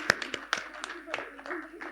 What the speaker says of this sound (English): Please give a huge round of applause to the Young Kobe team.